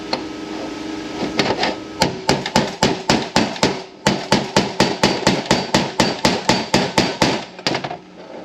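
A hammer drives a cutting tool to cut the bushing out of a 4L60E transmission sun gear: a rapid, regular series of sharp metallic strikes, loud and close, about two per second.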